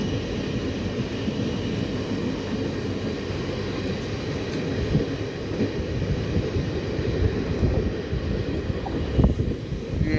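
The Chitrakoot Express pulling out of Katni Junction, a steady low rumble and rolling roar of the train in motion, continuous and fairly loud throughout.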